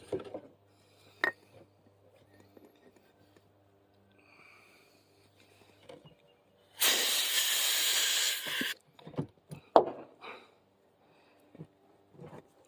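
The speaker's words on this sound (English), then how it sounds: "Let's go get some air in it." Air hisses in a loud burst of about two seconds while a tiller tire with a new inner tube is inflated, with sparse clicks and handling noises before and after.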